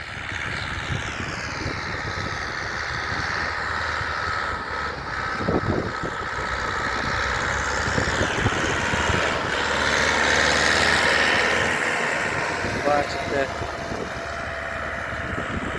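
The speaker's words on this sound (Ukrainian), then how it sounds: "Трактор працює ідеально." A Lovol 504 Pro tractor engine runs steadily while cultivating a field, a continuous low rumble with a rough, broadband mechanical drone and some outdoor noise.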